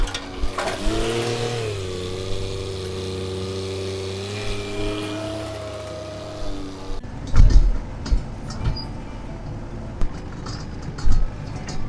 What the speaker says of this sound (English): get the scoop on the tractor, and get it moving from point A to point B.